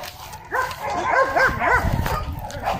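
A Rottweiler at a K9 training unit gives a string of three or four close, loud, wavering whimpering barks and yips, with a little background noise.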